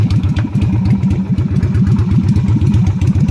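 A Yamaha Virago 250 (Route 66 edition) motorcycle with no choke runs just after start-up, its engine thumping in a fast, slightly uneven, loud close-up rhythm that never stops.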